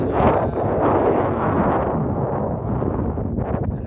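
Strong wind roars and buffets the microphone steadily throughout, a dense, rumbling rush with no voices.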